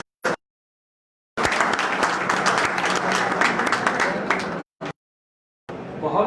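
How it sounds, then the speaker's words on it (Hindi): An audience at a Rajput community gathering gives loud applause to welcome a guest, a burst of many hands clapping that lasts about three seconds between brief cuts of silence. "जोरदार तालियों से उनका स्वागत।"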